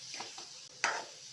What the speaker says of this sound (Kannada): ಒಂದು 5 ನಿಮಿಷ ಚೆನ್ನಾಗಿ ಥರ ಫ್ರೈ ಮಾಡ್ಕೊಳ್ಳೋಣ.